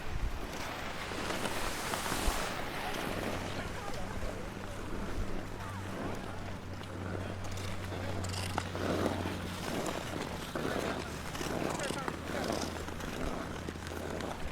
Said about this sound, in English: Can you feel the rumble of the ice under your skate?